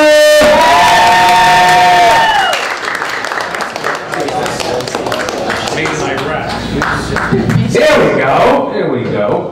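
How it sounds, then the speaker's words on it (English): A comedy club audience at a Jewish comedy competition bursts into applause and cheering, loud and close, with a brief voice over the start and then a dense, sustained wash of clapping and whoops. "Put your hands together for the comedy of Dr."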